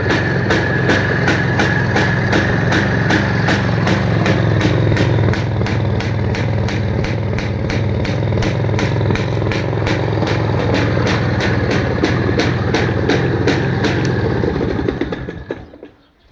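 A Planeta 5 motorcycle engine idles close by with a loud, rapid, even putter that holds steady for about fourteen seconds and then dies away.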